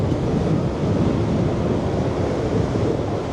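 Strong wind buffets the microphone on the Niagara Whirlpool Aero Car cable car over the whirlpool rapids, a loud, continuous rushing roar with no pauses.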